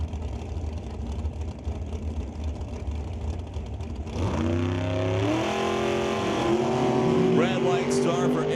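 A 1968 Camaro drag race car launches at a drag strip. A low rumble swells into a loud, high-revving run through the gears, while an announcer talks over it.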